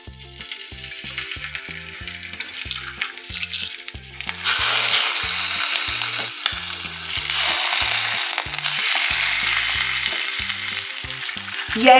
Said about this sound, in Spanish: Comenzamos poniendo un chorrito de aceite en una sartén honda y vamos a sellar el pollo.